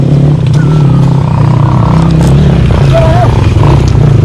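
A motorcycle engine runs loud and steady with a low throbbing drone throughout an offroad group ride over rocky ground, with faint scraping and knocks over the top.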